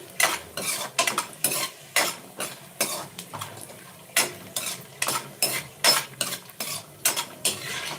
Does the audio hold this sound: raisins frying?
yes